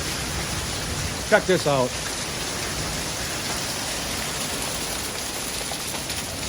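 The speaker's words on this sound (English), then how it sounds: "We got straight hail coming down. You can hear that." Hail falls outside in a steady, dense patter like heavy rain on surfaces, continuous throughout, with someone speaking briefly over it early on.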